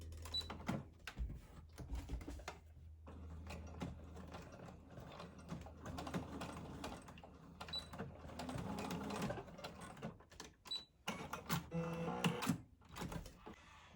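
A sewing machine stitches across the edge of a washable fabric face mask, its fast mechanical rattle running in uneven bursts with brief pauses between runs, close and fairly quiet.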